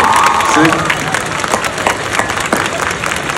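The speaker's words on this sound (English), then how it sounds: "Waouh, des applaudissements s'il vous plaît." An audience at a fan convention Q&A breaks into applause and cheering, a dense crackle of clapping that fills the hall, with voices calling out over it.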